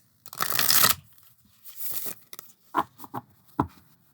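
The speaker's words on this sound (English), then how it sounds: "Shuffles pretty well." Citadel fantasy oracle cards with gold foil edges being shuffled by hand: a long riffling burst, then a second softer run, followed by several short separate slaps and flicks of the deck.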